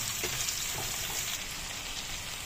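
Stuffed bitter gourds sizzle steadily in hot oil in a pan, a continuous close frying hiss with soft crackles and no talking.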